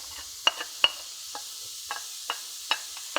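Shallots added to a hot pan for a warm asparagus and wild mushroom salad give a steady, soft sizzling hiss, broken by scattered sharp clicks of stirring and utensil contact.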